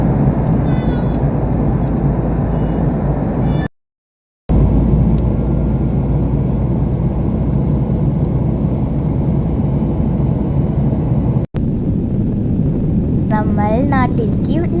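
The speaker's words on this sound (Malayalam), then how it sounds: "നമ്മൾ നാട്ടിലേക്ക് ലാൻഡ് ആയിരിക്കുന്നു." An airliner landing at Kochi after a flight from Muscat, heard from inside the cabin as a loud, constant roar and rumble that cuts out briefly twice, with a short voice near the end.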